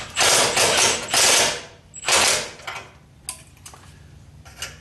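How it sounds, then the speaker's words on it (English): A wrench ratchets a nut up the threaded rod of a fabricated Pypes exhaust hanger on a 1976 Corvette restomod, with bursts of rapid clicking followed by a few sparse, separate clicks. "Move this nut up until I get the clearance I want."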